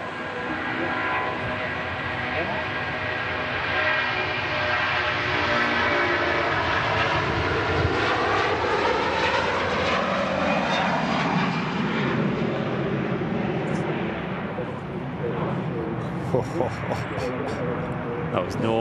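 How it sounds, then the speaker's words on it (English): An Air Tanker Airbus A330 departs Manchester Airport with a loud, sustained engine roar and a sweeping, shifting tone as it passes, fading toward the end as brief voices and clicks come in. "There goes the Air Tanker A330"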